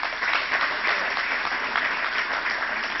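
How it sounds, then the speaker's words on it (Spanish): An audience at an animal health conference panel gives a steady round of applause for a speaker, the clapping even and moderately loud throughout, with no talk over it. "Un aplauso para Ignacio Mántaras."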